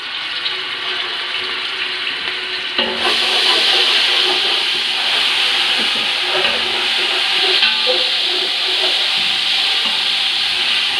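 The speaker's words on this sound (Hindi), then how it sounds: "ये मैंने ऑयल डाल लिया। अब मैं डाल रही हूँ जी अदरक लहसुन का पेस्ट।" Ginger garlic paste hits hot oil in a large pot, setting off a loud, continuous sizzling hiss that swells after a few seconds and holds steady.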